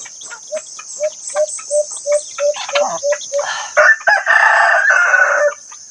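Chickens and a rooster on a mountain farm call in a quick, steady series of short clucks, then break into a harsher, drawn-out crowing burst, with insects trilling continuously behind them.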